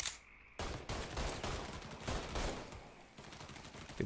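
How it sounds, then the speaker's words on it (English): Enemy gunfire in the Mafia III video game, a dense barrage of shots and bursts coming in rapid succession after a brief quiet start, loud and sustained throughout. "People shooting from like every direction"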